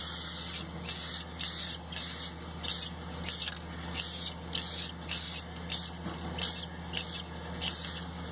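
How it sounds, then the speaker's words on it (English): Rust-Oleum spray paint hisses onto a car muffler in about a dozen short bursts of even rhythm, close up, with a low engine hum running in the background. "So all I want to do is give it a quick coat of some rust-oleum"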